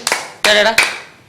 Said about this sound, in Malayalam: കൈയടി വേണ്ട